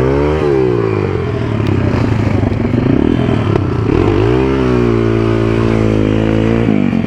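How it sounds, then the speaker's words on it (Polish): Two-stroke motocross motorcycles ride close by, their engines buzzing loudly and continuously with pitch rising and falling as they rev and shift. "Kurde, Felek, ja za tymi dwusuwami nie jadę."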